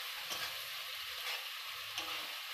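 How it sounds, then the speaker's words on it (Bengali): Spice paste with chili powder and coriander powder sizzles and fries in a pan for mutton curry, a steady hiss broken by a few soft stirring scrapes, close and alone with no talk. "লঙ্কার গুঁড়ো, ধনে গুঁড়ো দিয়ে দেব। মশলাটা একটু কষে নেব।"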